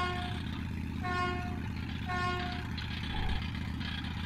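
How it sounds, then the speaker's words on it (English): Vehicle horn honking in the video game Metro 2033, several short tonal blasts spaced about a second apart over a low rumbling engine, fairly faint in the mix. "I gotta honk the horn. Woo! I get to honk the horn."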